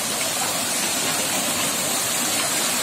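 Water from a stream at a picnic spot rushes and gushes steadily close by, a dense broadband splashing that fills the whole stretch with no voices.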